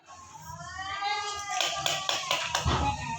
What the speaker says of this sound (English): Clap for Navika, everyone.